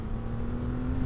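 A 2023 Triumph Rocket III motorcycle accelerates hard in second gear toward 80 mph, heard as a steady, loud, low engine drone with rushing wind, close and continuous.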